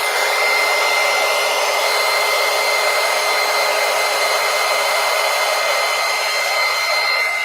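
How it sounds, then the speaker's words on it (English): A heat gun blows steadily over a mixed media page, a loud, constant, close whoosh with a high-pitched whine that holds unbroken for several seconds, with no talking. "Let me hit it with the heat gun."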